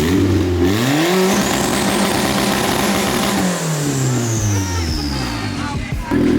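A turbocharged Honda Civic with an eBay turbo kit revs hard on a dyno on Dyno Day, loud and close, its pitch sweeping up and down through repeated high-rpm pulls.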